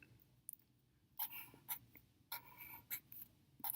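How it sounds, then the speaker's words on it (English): Pen or marker scratching out a fraction math equation on paper or a board, several quick bursts of strokes with brief pauses between, fairly close and moderately faint. "I'm going to write it out a little bit better here"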